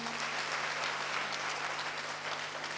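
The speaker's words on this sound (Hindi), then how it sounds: "हमारे भाव तो तालियों से ही पहुंचने हैं।" Seated audience giving warm applause at a gathering honoring a tahsildar in Abu Road, continuous even clapping from many hands with a faint electrical hum beneath and no talk.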